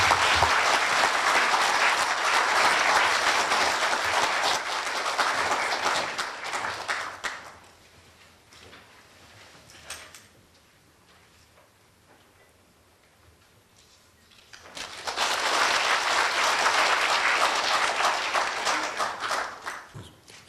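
A large lecture audience at Korea University applauds to welcome former UN Secretary-General Ban Ki-moon, dense clapping for several seconds that fades to a few scattered claps, then swells again into a second full round.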